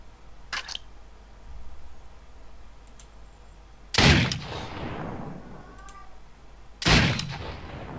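Revolver gunshots in the zombie survival game Dead State: Reanimated: two loud, sharp reports several seconds apart, each with a decaying tail, plus a fainter earlier click-like shot over a low background hum.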